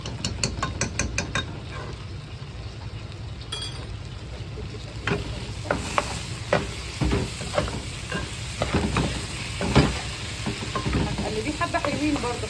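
Rice seasoned with turmeric and curry powder being stirred and fried in a pan, with a steady sizzle and repeated scraping stirs, close and moderately loud, no talking.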